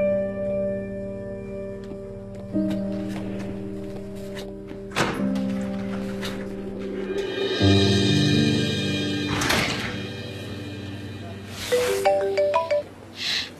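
A mobile phone ringtone in an office setting plays a melodic, chiming phrase of sustained tones, loud and close, repeating after a short gap, with scattered thuds and taps around it.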